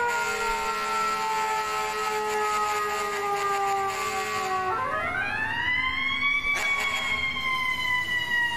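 A fire truck siren in the EmergeNYC emergency-response video game wails loudly and steadily, then its pitch sweeps and jumps into a new rising tone, with no talking over it.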